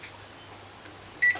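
A single short electronic beep sounds from an oven timer while a Jamaican Christmas fruit cake bakes at 250 degrees Fahrenheit, ringing out clearly over a quiet kitchen hum.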